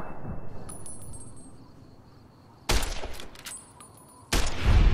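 Two loud, close gunshots in Fallout: New Vegas, likely from a cowboy repeater rifle, each a sharp crack with a ringing tail, separated by a quiet pause over faint game ambience.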